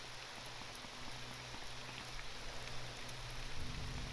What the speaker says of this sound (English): Kind of not even mad that it's raining because we got the fog.